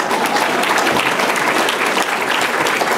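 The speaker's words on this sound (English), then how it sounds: "Really, you can clap for that." An audience at a university event claps loudly and steadily, a dense continuous wave of applause filling the whole stretch with no voices over it.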